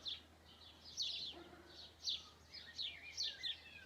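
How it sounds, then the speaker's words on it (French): Several bright, short bird chirps and trills repeat over a quiet, steady background hum, moderately close and fairly faint. "Écoutez les oiseaux"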